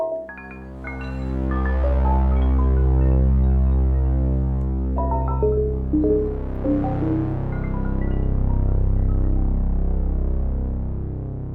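Ambient pad from a Waldorf Iridium synthesizer played dry with no reverb, a deep sustained tone with layered harmonic partials and soft shifting upper notes that swell, fade and re-enter, with no voices present.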